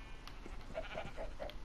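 Minecraft sheep bleating in the video game: a few short, nasal bleats repeat in a loose rhythm over a steady low background hum, fairly quiet and with no talking.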